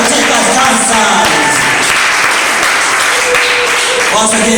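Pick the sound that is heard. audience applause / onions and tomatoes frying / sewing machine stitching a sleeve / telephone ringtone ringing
audience applause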